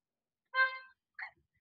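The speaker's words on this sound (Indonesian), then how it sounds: "Dan klaksonnya seperti apa kita dengerin nih." A VinFast VF3 electric mini SUV horn gives two short beeps, the first longer and brighter, the second brief and higher, in otherwise complete silence.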